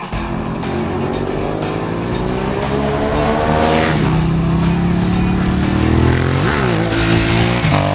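A 2016 Ducati Hypermotard 939 SP ridden on a race circuit gives a loud, continuous engine roar that rises and falls in pitch through gear changes, with a sharp blip near the end and no talking.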